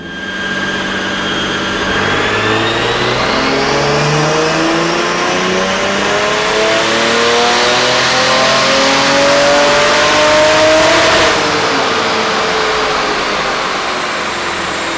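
A 2JZ-swapped Nissan 350Z roars on a dyno, its engine pitch climbing steadily through a long, loud wide-open pull for about ten seconds before lifting off and settling back, heard up close with no talking.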